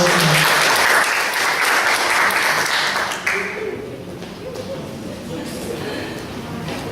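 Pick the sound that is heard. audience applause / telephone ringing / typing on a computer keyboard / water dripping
audience applause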